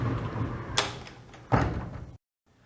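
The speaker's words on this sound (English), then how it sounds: "then what you can do is shut the sliding doors." Sliding doors of a hotel suite bathroom being pushed shut, two distinct rolling thuds about a second apart, close by in a quiet room with no talking.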